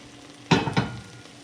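Carrots tipped into a pot of cooked meat for a long Viking-style stew, two quick bursts of dull rattling and thudding in close succession over a quiet background.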